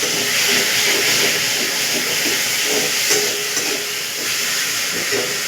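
Water poured into a hot pan of browned onion, ginger-garlic paste and chopped tomato sets off a loud, continuous steamy hiss and sizzle that holds steady for several seconds, with no talking.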